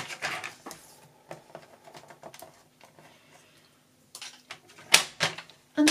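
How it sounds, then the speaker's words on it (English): A paper trimmer slices through sheets of paper in short, irregular strokes and clicks, fairly close and moderately loud, with quiet gaps between the cuts. "This is where a paper trimmer comes in really handy."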